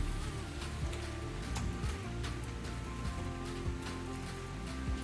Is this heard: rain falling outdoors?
yes